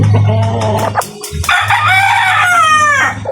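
A Sweater-breed gamefowl rooster crows loudly and up close, one long full crow, with clucking and other fowl sounds from the yard.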